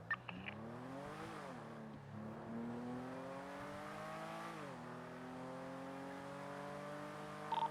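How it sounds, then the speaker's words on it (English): A car in NoPixel GTA roleplay accelerates with a steady engine tone rising in pitch, dropping at gear shifts and climbing again, continuous and fairly faint throughout. "Start accelerating."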